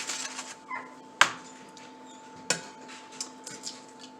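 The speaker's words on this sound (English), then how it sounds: "our dog is whining to come in" A pet dog whines to be let in at a home kitchen during dinner preparation, short faint whimpers heard indoors alongside a couple of sharp kitchen clatters, with no talking.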